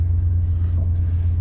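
Thelma, a car, rumbles along with a deep steady engine drone, close and loud for a short stretch with no voices.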